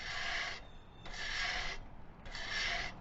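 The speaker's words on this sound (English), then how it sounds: "I'm going to try the manual brush, and we're just going to try and take a little bit of rust off the edge here" Manual wire brush scrubbing rust off a metal edge before MIG welding, heard as three close, steady rasping strokes, each under a second long, with short pauses between them.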